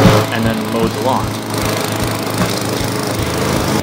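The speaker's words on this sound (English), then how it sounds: "Started the mower." A gas lawn mower drones steadily at close range while cutting grass, a loud continuous engine hum with rhythmic pulsing and no pauses.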